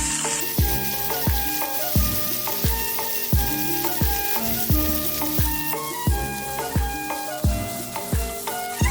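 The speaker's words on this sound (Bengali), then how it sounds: "এবার এই একই তেলে আমি দিয়ে দিচ্ছি কাঁকড়াগুলোকে ভাজার জন্য" Crabs fry in hot oil seasoned with salt and turmeric, giving a constant close sizzle, and a spatula stirs and knocks against the pan in an even repeating rhythm, with no talking.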